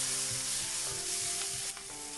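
Chili sauce and cooking wine are stir-fried in a wok for a tofu dish, giving a bright, continuous close-up sizzle with a light scrape partway through.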